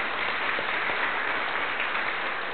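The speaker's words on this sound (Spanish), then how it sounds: "Por favor, denle un aplauso fuerte al Señor." A church congregation applauds together in a continuous, even patter of clapping that holds steady throughout at moderate level.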